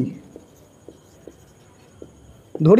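A pen scratches on paper in short, faint, spaced strokes during a Bengali class 10 maths lesson, and a voice starts speaking at the end.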